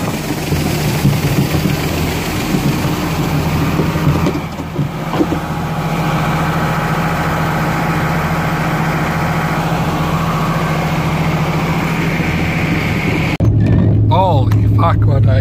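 A farm vehicle hauling a grain auger rumbles with a steady low engine drone, shifting to a louder deeper tone near the end; someone talks over it.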